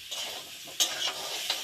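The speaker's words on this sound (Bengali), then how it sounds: "আলুটা ভাজি করছি, সুন্দর করে ভাজি করবো তো।" Potatoes sizzle in a frying pan, a continuous close hiss marked by a few sharp spatters and stirring clicks.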